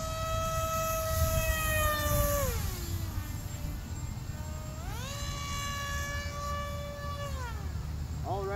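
An FT-22 RC plane with homemade retractable gear taking off and flying, its electric motor whining in a steady drone that rises and falls in pitch as it passes, against constant outdoor wind noise.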